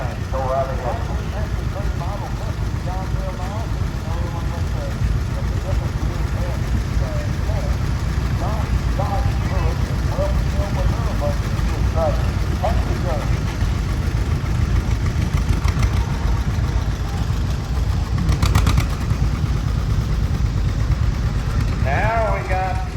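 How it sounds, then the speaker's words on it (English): The biggest John Deere letter-series row crop tractor idles at a tractor parade, a steady low engine rumble under continuous announcer commentary over a loudspeaker. "Now we got the biggest row crop tractor that John Deere built in the letter series in a row crop now"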